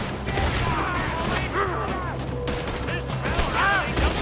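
A rapid fusillade of gunfire fills a Red Dead Redemption 2 battle, shots cracking repeatedly over a low rumbling game soundtrack, with faint voices mixed in.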